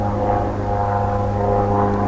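A propeller airplane drones overhead at a conservation area, a steady loud engine hum that holds without pause.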